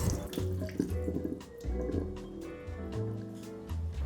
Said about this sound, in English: Gently rinse the surface of the tofu with water.